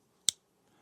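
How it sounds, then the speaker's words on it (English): A Rapid River folding knife snaps open with one crisp, close click as the blade locks, followed by near silence. "That's the sound of my Rapid River knife locking back open."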